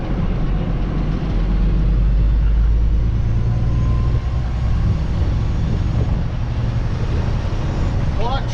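A truck with an 18-speed Eaton Fuller transmission pulling away, a loud continuous low engine drone and road rumble heard from the cab, steady throughout with a faint rattle near the end.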